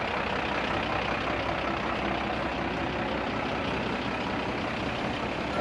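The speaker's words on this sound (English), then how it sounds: "the first of our fire engine, our full-size appliances coming through now" A full-size fire engine rolls past at a steam and vintage fair, its heavy truck engine a loud, steady rumble filling the whole stretch with no break.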